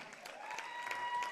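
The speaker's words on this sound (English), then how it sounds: "A big hand for tonight's officiating crew, Mr. Jim Appleby, Mr. Eric Cheatley, and Mr." A crowd at a high school boys' basketball game claps for the officiating crew, a short burst of steady applause that sounds fairly faint and distant in the gym.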